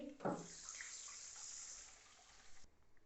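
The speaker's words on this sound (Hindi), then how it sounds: "अब इसमें पानी शामिल करेंगे।" Water pours into a cooking pot holding lightly golden fried garlic for chicken rice, giving a quiet, steady splashing stream for a couple of seconds that stops abruptly.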